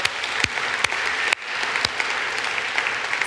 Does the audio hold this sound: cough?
no